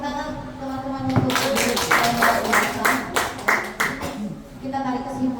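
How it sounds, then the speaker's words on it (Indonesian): Workshop participants clapping on cue, a burst of many hands beating in a quick, irregular rhythm for a few seconds before a voice resumes talking over the fading claps. "beri tepuk tangan teman-teman"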